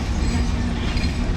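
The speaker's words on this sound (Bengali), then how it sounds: "11টা বেজে 3 মিনিটে চিলাহাটি ছেড়ে দিল ঢাকার উদ্দেশ্যে" Railcars of the departing Chilahati express to Dhaka roll past a tree-shaded platform, a dense, steady, loud rumble of wheels on track close at hand without pause.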